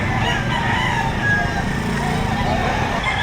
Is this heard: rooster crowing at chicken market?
yes